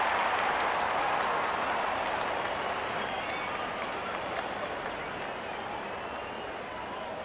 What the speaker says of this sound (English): Openers walking in and the crowd cheering in anticipation.